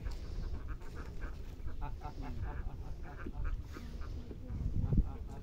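Ducks quack repeatedly outdoors near water, in short scattered calls over a busy background, while people talk and shout nearby.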